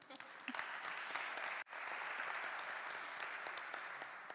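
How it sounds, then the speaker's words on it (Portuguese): Faint, steady applause from a church congregation during a Sunday worship service, with a brief dropout midway before the clapping continues evenly. "Uma salva de palmas para ele."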